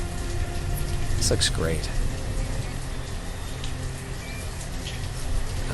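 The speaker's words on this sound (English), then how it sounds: "Man, it is rainy." Steady rain falls in the town-building game Banished, a continuous hiss running the whole time while someone talks over it.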